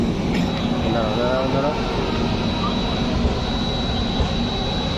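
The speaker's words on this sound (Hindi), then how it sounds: "फाइनली अब रवाना हो चुकी है हमारी ट्रेन पंडित दीनदयाल उपाध्याय जंक्शन से" The Sampoorn Kranti express rolls out of Pandit Deen Dayal Upadhyaya Junction, a steady low rumble of moving coaches with a faint high whine, as a voice talks briefly over it.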